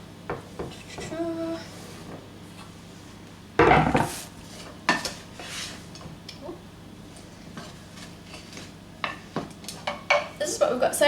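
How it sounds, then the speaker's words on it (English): Asparagus cooking briefly in a pan with chorizo, bacon and onion, with clanking pan and utensil knocks and light sizzling, a loud scrape near the start and scattered clinks, a voice faintly present at times. "I'm going to cook these really briefly in the pan with the chorizo, bacon, onion mix"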